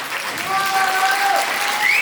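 Audience applause at an Indian dance show, a steady wash of clapping from a crowd that fills the whole moment, with faint tonal sounds drifting over it.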